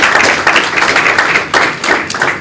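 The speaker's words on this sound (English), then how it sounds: "First of all, let's clap for that." Audience applause at the national finals of a research challenge, a loud sustained wash of many hands clapping that swells and dips over a couple of seconds.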